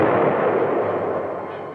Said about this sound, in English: the tanks meet heavy fire from enemy tanks